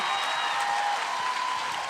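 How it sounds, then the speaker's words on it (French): An audience at a live comedy show applauds in a steady, dense wash of clapping, with crowd noise and a faint tonal sound running underneath. "Donnez-vous une bonne main d'applaudissements"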